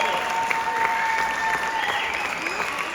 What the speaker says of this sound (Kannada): ಅವರೆಲ್ರಿಗೂ ಒಂದು ಪ್ರೀತಿಯ ಚಪ್ಪಾಳೆಯೊಂದಿಗೆ ವೆಲ್ಕಮ್ ಮಾಡೋಣ.